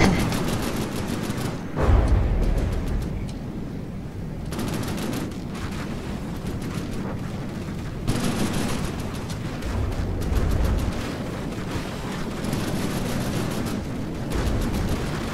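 Naval gunfire in the ship-building game From the Depths, a rolling fusillade of shots and deep booming blasts in irregular waves, loud and continuous.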